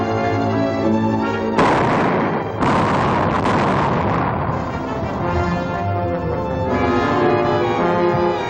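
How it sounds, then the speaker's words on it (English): Tremendous explosion sound effect in a 1947 radio adventure serial, a dense roaring blast with crackling surges layered over a sustained musical backdrop, loud and continuous throughout. "Nothing but a sound like a tremendous explosion."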